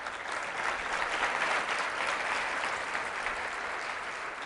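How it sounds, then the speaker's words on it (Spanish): A church congregation claps along during a sermon on repentance, giving a steady, even wash of applause that holds at a constant moderate level without clear pauses or talking. "Dale palmas a Cristo."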